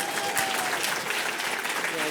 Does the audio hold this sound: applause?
yes